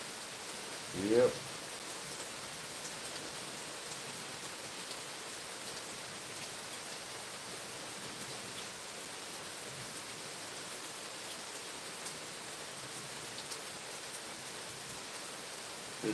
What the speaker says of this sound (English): just listen to the smooth, relaxing rain